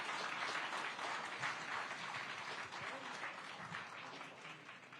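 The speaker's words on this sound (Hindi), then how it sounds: "बहुत तेज तालियां एक बार होनी चाहिए" An audience welcoming Olympic medalist wrestler Aman Sehrawat breaks into loud, dense, sustained applause, a continuous wash of many hands that fades slightly toward the end.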